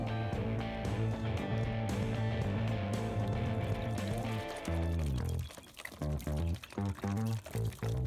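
Liquid pours steadily from a gallon jug onto potato plants, a continuous close gurgling stream that breaks into short irregular splashes toward the end.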